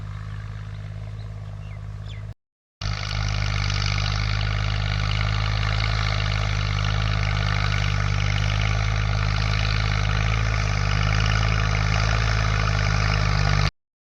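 A tractor ploughs a farm field with a loud, steady, close engine drone that holds constant, broken once by a short gap near the start.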